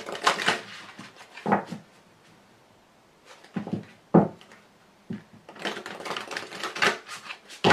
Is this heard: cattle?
no